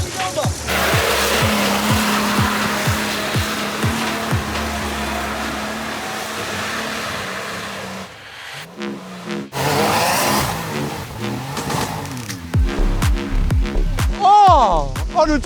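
A Mercedes G63 Brabus strains off-road on 4x4 terrain, its engine bouncing against the rev limiter in rapid repeated pulses, then roaring and revving hard near the end amid a voice's exclamations.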